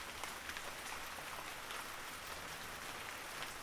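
Steady light rain falling outdoors on a mountain hiking trail under clouds and fog, a soft even hiss with scattered drops close by and no voices.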